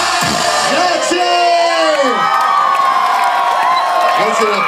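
Concert crowd at a live show in 2012 cheering, whooping and shouting loudly and continuously, a dense roar of many voices filling the space up close.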